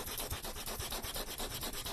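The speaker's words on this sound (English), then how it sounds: "Then I take some sandpaper and just give it a little bit of a sanding" Steady rapid rubbing of sandpaper on a junk journal cover, a close, continuous scratchy hiss with even back-and-forth rhythm.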